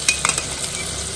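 Ginger garlic paste, ground in a mixer jar, frying in a pan while being stirred: a soft sizzle with a few quick scraping strokes near the start, then steady low frying with no voices.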